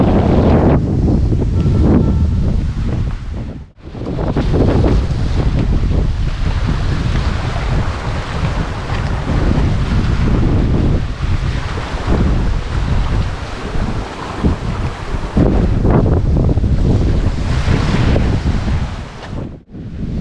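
Strong wind buffets the microphone while waves surge and wash at Anyer beach near the 0 km point in Serang, a loud, dense, continuous roar with brief dips as gusts ease.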